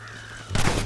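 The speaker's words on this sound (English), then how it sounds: "Damn crows!" Crows caw in the Red Dead Redemption video game, a short burst of harsh calls rising suddenly over a steady background hum, brief and moderately loud.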